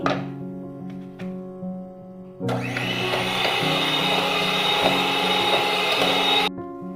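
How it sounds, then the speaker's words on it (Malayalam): An electric hand mixer beats cake batter for a black forest cake as powdered sugar is added. A quieter whir and clinks come first, then a steady, loud motor drone runs for several seconds before cutting off, with no talking. "വീണ്ടും പഞ്ചസാരപ്പൊടി ചേർത്തിട്ട് ഒന്നും കൂടി നന്നായിട്ട് ബീറ്റ് ചെയ്തെടുക്കാം."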